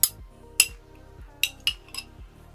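A metal spoon clinks against a dish while scooping, five bright, crisp taps spaced unevenly over a couple of seconds, close and clear, with soft background music underneath.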